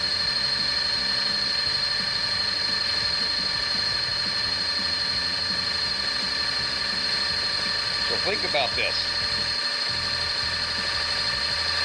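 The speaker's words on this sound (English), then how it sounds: "This drill will run a grand total of 550, I believe, RPMs." A steady mechanical whir of an electric drill spinning a 500-watt wind turbine at about 550 RPM runs throughout, with someone talking over it and a brief rattling burst near the end.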